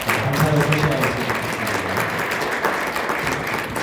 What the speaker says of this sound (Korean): 우리 다시 한번 좋은 강의해 주신 김혜린 교수님 자기 박수로 감사를 표시하겠습니다.